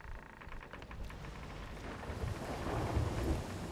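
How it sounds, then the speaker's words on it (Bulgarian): A thunderstorm with rain and lightning in Sea of Thieves, a low rolling thunder rumble that builds toward the end over a faint hiss of rain, quiet overall. "Мисля, че пак ми удари светкавица, не съм сигурен."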